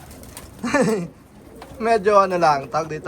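Pigeons coo in a loft after a 20-mile toss, two bursts of soft, warbling calls heard near and clear, mixed with someone talking over them.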